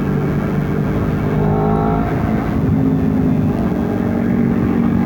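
A Honda CBR 250 RR motorcycle engine at full throttle, a loud, steady, dense drone that holds throughout with a broad low rumble and no talk over it.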